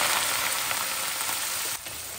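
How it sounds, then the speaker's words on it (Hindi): Onions already browned in hot oil keep frying as garlic and ginger go in, giving a steady dense sizzle for biryani. A brief dip in the sizzle comes near the end. "अब इसमें मैं ऐड कर रही हूँ लहसुन, अब इसमें डाल रही हूँ अदरक। ठीक है, करेंगे फ्राई।"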